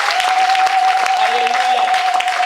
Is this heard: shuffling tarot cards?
no